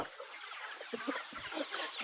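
Country hens on a farm cluck and murmur in short, scattered bursts, a few birds fairly close against a faint, busy outdoor background, with no talk.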